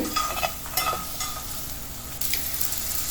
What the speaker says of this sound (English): So I just added salt and pepper and roast it on high flame with little oil